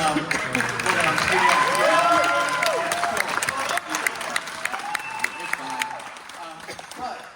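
A concert crowd at a show claps and cheers, with applause swelling then thinning into scattered claps while voices call out and chatter throughout.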